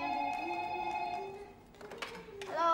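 A telephone rings in a house, its steady electronic tone sounding close over the first second and a half before fading, with voices and household noise following.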